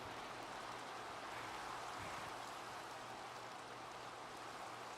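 Steady rain falling in the video game Minecraft, an even, continuous hiss that holds level throughout with no voices over it.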